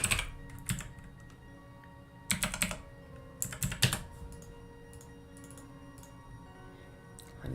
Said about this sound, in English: I might be typing very fast today.